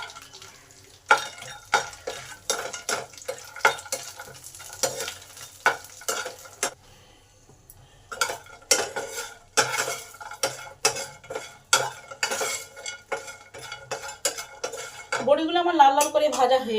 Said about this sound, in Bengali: এবার বড়িগুলোকে ভালো করে ভেজে নেব।